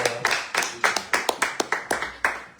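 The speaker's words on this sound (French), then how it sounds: "Est-ce que tu peux acclamer pour la parole?" Hand clapping from a church congregation during a sermon, a steady series of sharp claps about five per second, fairly close and unaccompanied by talk.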